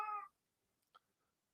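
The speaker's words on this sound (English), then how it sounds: "as you can hear, my cat in the background" A house cat meows from behind a closed door, one short muffled cry at the start followed by a faint rustle, heard alone and fairly quiet.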